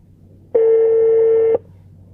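A phone places a test call through a Navitel BHF05 MAX Bluetooth car transmitter, sounding one clean, steady electronic tone that lasts about a second against quiet.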